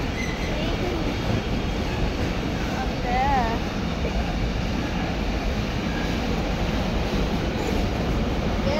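Constant loud rumble and rattle of a moving train, heard from inside, with no break throughout.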